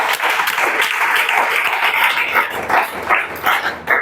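A class of students claps loudly together during a police recruitment coaching lesson, a dense burst of hand claps that stays strong and close throughout, with scattered voices and shouts mixed in.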